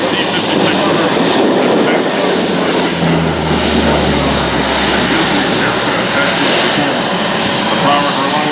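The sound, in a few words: high speed aircraft pass, Allison T-56 turboprop engines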